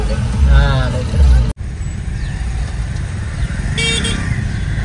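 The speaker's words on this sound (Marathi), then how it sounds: "कारण खूप ट्रॅफिक आहे इथे" Heavy road traffic near a petrol pump in Panvel, with a steady engine rumble throughout and a couple of car horn toots near the start and end, while people talk over the din.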